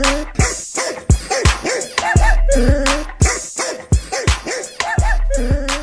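Comedic dog barking effect on a morning radio show: a loud, repeated run of yips and barks with short whimpering rises, close and continuous for several seconds with no talk over it.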